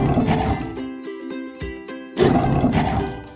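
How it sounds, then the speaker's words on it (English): A cartoon lion gives a loud, close roar with a rough growling tone. It comes in two swelling bursts separated by a short dip, with no talking. "We've got the lion."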